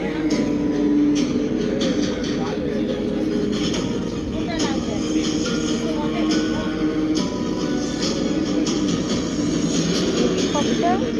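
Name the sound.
helicopter engine starting in GTA video game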